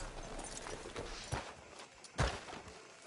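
Horse hooves clip-clop at a walk in Red Dead Redemption 2, a steady gait outside a sheriff's office, with a couple of louder, closer hoof strikes standing out over a faint background murmur.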